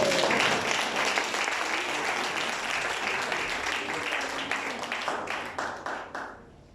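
A church congregation breaks into loud, sustained applause with dense clapping that thins and fades out toward the end.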